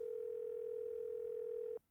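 A telephone dial tone in a video game, one steady pure hum held unbroken for nearly two seconds before cutting off abruptly, faint and alone over a quiet background.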